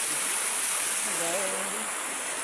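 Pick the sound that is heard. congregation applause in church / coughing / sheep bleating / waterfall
waterfall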